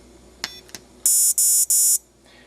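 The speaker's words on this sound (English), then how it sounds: "you'll get beeps coming through the receiver" Elite-Tek ET-9868 dog training collar receiver giving three sharp, loud electronic beeps in steady succession, preceded by a couple of faint clicks, heard up close with no talk.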